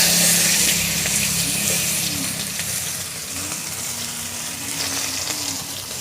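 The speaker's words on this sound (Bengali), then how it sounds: "পেঁয়াজ, লঙ্কা কুচি, আদা রসুন বাটা তেলের ওপর দিয়ে দেব।" Chopped onion, green chili and ginger-garlic paste hit hot oil already tempered with whole cumin, giving a loud, steady, close sizzle that holds throughout and eases off only slightly.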